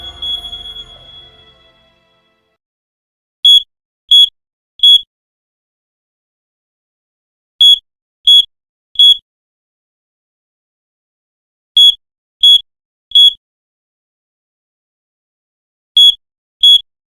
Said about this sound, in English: It's just an alarm.